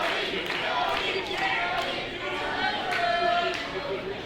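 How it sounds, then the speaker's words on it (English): A London wrestling crowd at a Super Showdown show roars steadily behind Jody Threat, a dense, sustained wall of cheering and chanting with rising swells, while voices carry over it throughout. "Listen to the crowd here in London firmly behind Jody Threat."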